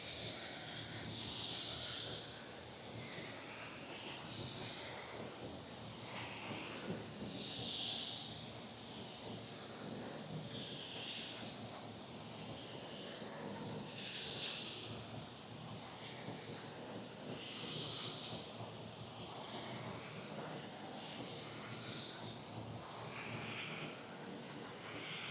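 Sagola spray gun with an aqua cap spraying paint over panels, a continuous airy hiss that swells and eases in steady passes.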